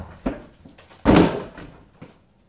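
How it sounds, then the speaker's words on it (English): A damaged bedroom door is banged hard, giving a near, heavy thud and rattle amid a few lighter knocks, then fading quickly. "I broke my door even more."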